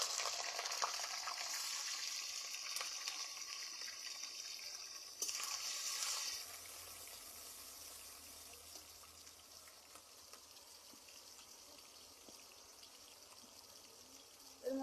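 Tomato and green chilli hit hot oil in a pan and fry with a steady hiss and sizzle. The sound is loudest at first, swells briefly, then settles into a quieter, continuous crackle.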